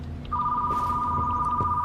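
A telephone rings in a retro video rental store simulator, one steady electronic tone starting abruptly and holding loud and close, with a little background noise.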